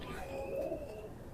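Pigeons coo softly and continuously, a low murmuring warble from young high-flying birds kept in a loft, with faint background noise and no clear talk over it.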